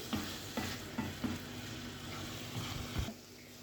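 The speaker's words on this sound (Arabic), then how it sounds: "كده قلبنا الطماطم المبشوره مع معجون الطماطم." Grated tomato and tomato paste stir-fried in a pan: a soft, steady sizzle with a few distinct spoon knocks and scrapes at intervals, close and fairly quiet, no talking.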